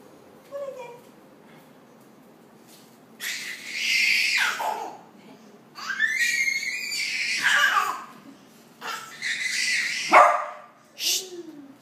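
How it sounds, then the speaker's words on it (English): A dog barks in several loud bursts, some drawn out into whining yelps, with a person speaking briefly between them. "Tell her no barking"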